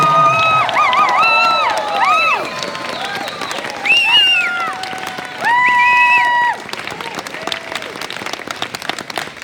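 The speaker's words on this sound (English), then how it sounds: "let's give a big round of applause to General Groves, Santi Naranjo" An audience claps and cheers for young third- and fourth-grade stage performers at a school show, with steady applause carrying under bright children's shouts and whoops rising and falling in bursts.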